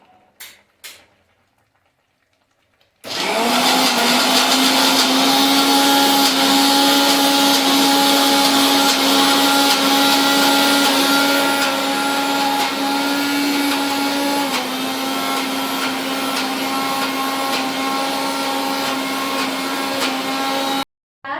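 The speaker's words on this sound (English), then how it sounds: "It needs to be grinded a little more actually. I can see the nuts and the onions still there. So I'm again grinding it." Electric mixer grinder blending onions and nuts into a gravy for paneer butter masala: a loud, steady, high whine starts abruptly after a few quiet seconds, runs without a break, dips slightly in pitch midway and cuts off at the end.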